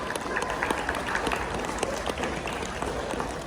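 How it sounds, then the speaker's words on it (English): A crowd claps steadily in sustained applause, dense and fairly loud throughout, with no break. "give a huge round of applause to Thomas and Maura for coming all the way from Florida"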